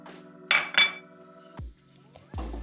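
Metal spoon clinks and scrapes against a pan as Karachi halwa with cardamom seeds and magaz is stirred and mixed, a few separate sharp knocks with quiet pauses in between.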